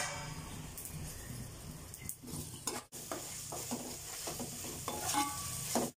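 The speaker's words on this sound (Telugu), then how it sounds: "చూడండి, అవి చిటపట్లాడుతున్నాయి, పైన పడతాయి, జాగ్రత్త" Food frying in a hot pan, a close, continuous crackle and sizzle with popping bursts and a short stirring clatter, a brief dropout near the middle.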